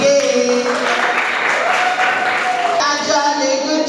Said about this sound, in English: Please, can we give them a big round of applause again?